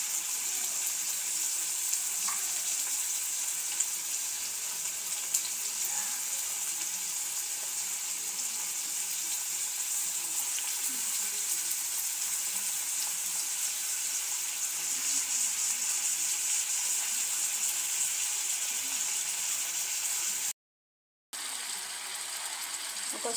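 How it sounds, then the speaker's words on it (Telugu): Chopped onions sizzle and fry steadily in a pan while cooking for sambar, a loud, continuous hiss close up that cuts out briefly near the end. "ఆనియన్ పచ్చివాసన పోయేంత వరకు ఉడికించుకోవాలి."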